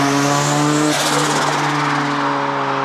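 Turbocharged car engine lets off the throttle, loud steady harmonic engine drone joined around the one-second mark by a broad rushing burst of turbo compressor surge, alone without talk.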